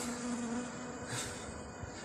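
Faint, steady buzzing of bees feeding on pollen cake, with a low hum, quiet and a little distant, with no voices.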